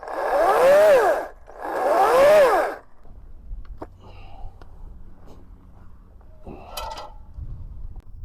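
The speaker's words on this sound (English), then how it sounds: "this DongCheng chainsaw can easily trim trees and get through branches" A DongCheng 40V cordless chainsaw trimming tree branches gives two loud revving bursts whose pitch swells and falls, then goes quiet, leaving scattered rustling, snapping twigs and clatter.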